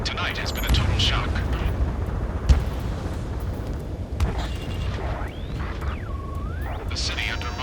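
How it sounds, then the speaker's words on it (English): Gunfire, explosions and roaring jets fill a city under martial law in the Ace Combat 7 video game, with a steady dense rumble, a sharp blast near the middle, and a rising and falling jet whine late on. "Gunfire and the roar of jets echoing through the streets."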